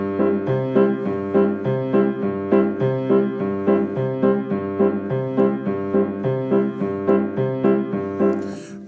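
Piano accompaniment in cut time, left hand alternating root and fifth in the bass while the right hand stabs chords off the beat, a steady bouncy groove played alone and clearly throughout.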